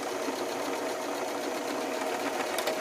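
Sewing machine stitching a fabric patch pocket, a steady rapid mechanical whirr running continuously and fairly loud throughout, with no voices.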